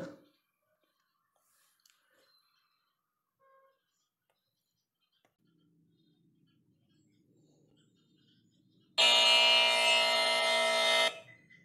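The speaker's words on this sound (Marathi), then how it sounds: "हा आवाज आहे बजरचा" An electric buzzer sounds a single loud, harsh, sustained buzz of about two seconds near the end, following near silence with a few faint, scattered noises.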